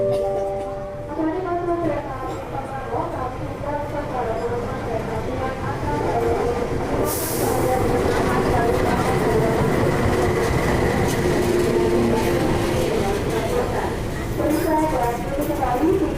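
Passenger train on the single-track Bogor-Sukabumi railway line in Indonesia, rolling steadily with continuous rumble, clattering wheels and occasional squeals, with faint voices in the background throughout.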